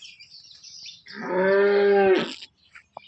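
A pregnant Holstein Friesian (HF) cow, six-toothed and in her second lactation, gives one long, loud, close moo lasting about a second. Quiet farmyard background and faint clicks come before and after the call.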